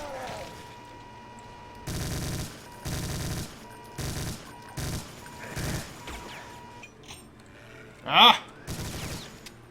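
Bursts of rapid chaingun fire from the Brutal Doom game come in several loud blocks of a second or so each, with a short shout and quieter gaps between.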